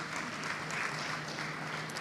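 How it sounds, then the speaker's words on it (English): Faint, steady clapping from an audience at a learner environment safety summit in Mbombela, welcoming Reverend Tumelo Mofugeng, a continuous low wash of applause heard from a distance. "Give him a big round of applause, ladies and gentlemen."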